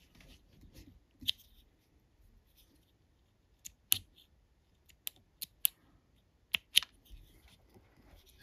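Scissors trim the legs of a slow sinking spider fishing fly, giving a quiet series of about eight sharp, separate snips at uneven intervals in a near-silent room.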